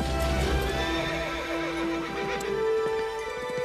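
A horse in a film scene whinnies loudly over rapid clip-clop hoofbeats from galloping, with no talk.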